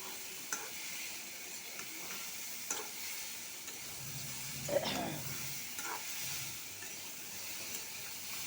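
Onion, garlic and soybean fry in a pan, a faint steady sizzle broken by occasional scraping stirs and clinks close by.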